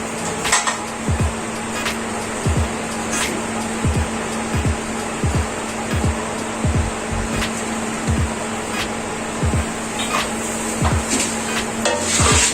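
Spices and oil being mixed for mango pickle, a five-kilogram batch: steady rhythmic scraping and knocking strokes roughly every second, repeating close up over a constant background hum.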